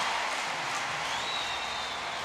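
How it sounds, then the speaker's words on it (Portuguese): A crowd at the Ibirapuera gymnasium applauds and cheers for gymnast Daiane dos Santos at the 2005 Gymnastics World Cup. The sound is a steady, distant wash of clapping and shouting. "A torcida aplaude e grita"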